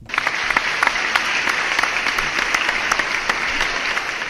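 Steady, dense applause from a crowd at a live Knicks fan event, loud and sustained, with sharp individual claps standing out and no talking over it.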